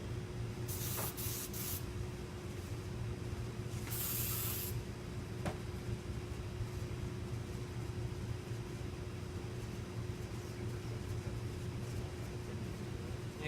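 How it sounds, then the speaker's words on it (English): Spray adhesive hisses onto car seat upholstery during a Pontiac Fiero seat rebuild, with two or three short bright bursts near the start over a steady low background hum, no talking. "I like the spray a whole lot better than Super 77"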